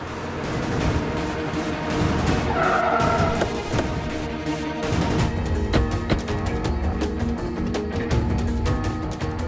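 A car in a Hindi TV drama pulls away fast in pursuit, loud engine roar and skidding tyre squeal over busy dramatic noise, lasting several seconds.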